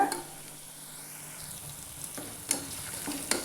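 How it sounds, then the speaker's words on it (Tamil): Dried red chillies frying in a pan while being stirred, a steady soft sizzle with a few sharp scraping knocks of the spoon against the pan, close and alone without speech. "ஏழு எட்டு வரமிளகாய் சேர்த்துக்கோங்க அதை நல்லா மிக்ஸ் பண்ணிக்கோங்க"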